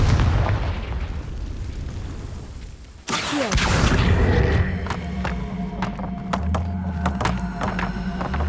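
A Confringo fire spell bursts into an explosion in Hogwarts Legacy, a sudden loud boom about three seconds in followed by a roaring, crackling blast that lingers over the game's background sound.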